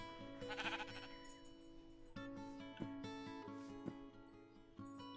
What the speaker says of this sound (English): I guess this is a light gray sheep.